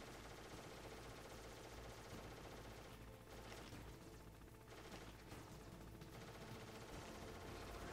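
Sustained enemy gunfire from the Metal Gear Solid video game on hard difficulty, a dense continuous rattle of automatic shots that stays loud throughout, thinning slightly midway before resuming full force.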